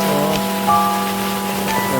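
Heavy morning rain pours onto a town street in Odisha, a steady close hiss of downpour that runs through the whole stretch with a low constant hum underneath.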